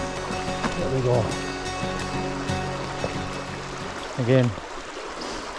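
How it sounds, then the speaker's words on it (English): Noisy trout stream rushing along at dusk, a steady close wash of flowing water under a man's quiet speech, with a few brief splashy bursts. "this noisy water should be hiding our movements."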